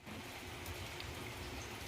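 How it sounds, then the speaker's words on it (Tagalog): Heavy rain pouring steadily as a dense, even hiss with no breaks, moderately loud and alone with no voices. "ang lakas na naman po ng ulan"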